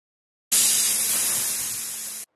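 A pressure cooker of soybean and potato tahri on medium heat lets out a single loud, steady hiss of escaping steam that starts abruptly, lasts under two seconds and cuts off sharply.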